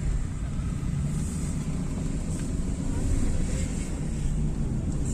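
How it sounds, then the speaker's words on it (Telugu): Wind rushes and buffets steadily outside a vehicle on a hill ghat road, a loud continuous roar with low rumble and no clear voices. "బయట గాలి"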